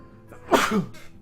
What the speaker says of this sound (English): I had to sneeze real fast